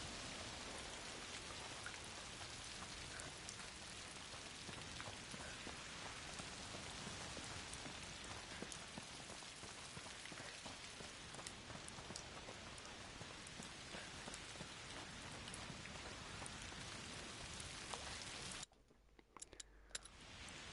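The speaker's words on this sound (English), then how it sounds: "This rain effect's pretty good." Steady rain from the video game A Plague Tale Requiem, a dense continuous patter of drops on surfaces that stays even and fairly close throughout, with no voices, then thins out abruptly near the end.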